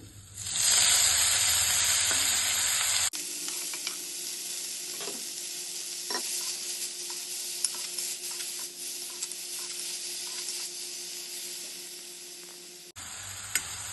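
Tengesi leafy greens hit a hot pan with spices and fry with a loud, bright sizzle that settles into a steady crackle and hiss, with occasional stirring scrapes and taps.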